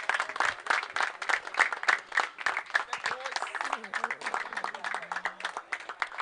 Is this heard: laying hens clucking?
no